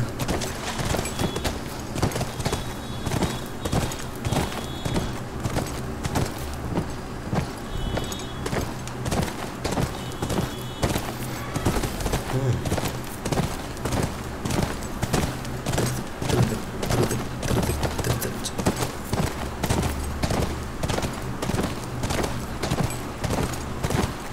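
Horse hooves clip-clopping near a ranch in The Last of Us video game, a steady rhythmic series of close, distinct hoof strikes continuing throughout.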